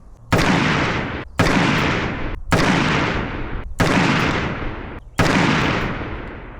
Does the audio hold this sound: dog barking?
no